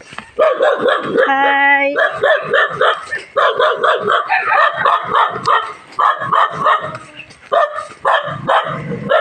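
Dogs at a house bark and yip in rapid, loud bursts close by, mixed with people calling out and talking.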